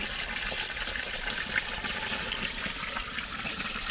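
Water running steadily into a sample container from a spring source in a forest park, a continuous close splashing gush with no talk.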